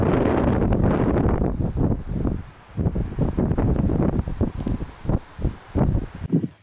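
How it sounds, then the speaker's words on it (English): Strong wind gusting across a field of standing corn, loud and close with buffeting noise on the microphone and rushing, rustling surges that rise and drop irregularly throughout. "the wind has been pretty strong lately"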